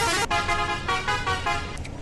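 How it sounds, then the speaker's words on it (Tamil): A Ram Dalal tourist bus horn honks in a loud, fast run of repeated musical toots with brief gaps, close up and alone. "ஹாரன் சும்மா பந்தமாக இருக்கு"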